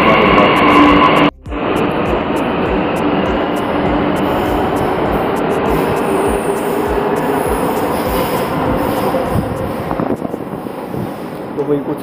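A Delhi Metro train at Vishwavidyalaya station rumbles loudly and steadily close by, with wheel hiss and wind noise, easing off slightly toward the end.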